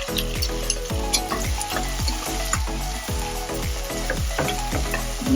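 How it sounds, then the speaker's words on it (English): Onion frying with cumin in a pan over low flame, continuous close sizzling with a regular rhythm of stirring strokes scraping the pan about twice a second. "Let's cook the onion for a bit till the time they go brown."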